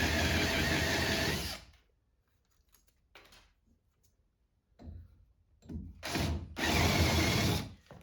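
A power drill countersinking plywood with a homemade stop jig while building a boat, a loud close whir that stops, then after quiet handling noises returns in short bursts and a final sustained run.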